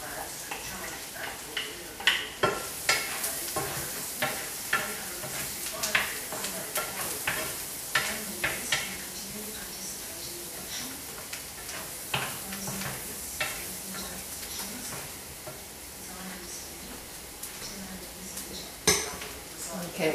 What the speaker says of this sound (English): So those onions are just cooking nicely now.